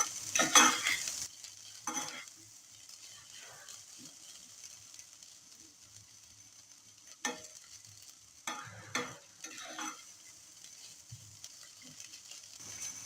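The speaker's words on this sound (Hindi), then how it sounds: "हरी मिर्च डालने के बाद हम इसको 1 मिनट तक फ्राई करेंगे प्याज के साथ" Green chilies and onions fry over a medium to low flame in a pan, with a faint steady sizzle and intermittent scraping strokes of stirring, close and quiet, no voices.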